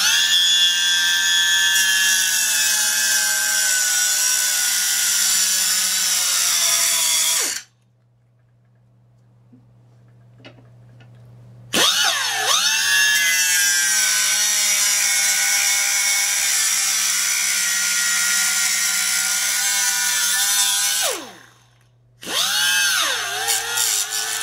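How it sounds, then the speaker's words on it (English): A power tool cuts and sands the end of a pin on a 1/4-inch drive universal joint, giving loud high whining bursts that stop, pause in near silence, then resume, with a brief dip before the last burst. "we're going to have to cut the end off of that and try to sand it down"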